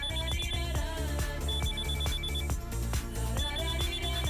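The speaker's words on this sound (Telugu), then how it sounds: "ముందు ఫోన్ కలుపు" A telephone rings on an outgoing call in a film comedy scene, a repeated trilling ring tone sounding over busy background music.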